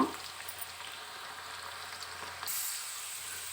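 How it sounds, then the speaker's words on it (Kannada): Hyacinth beans (avarebele) deep frying in hot oil give a constant close hiss and bubbling sizzle, which swells a little louder toward the end. "ಇದು ಫ್ರೈ ಆಗ್ತಾ ಇದ್ದರೆ ಎಲ್ಲ ತೇಲ್ಕೊಳ್ಳುತ್ತೆ"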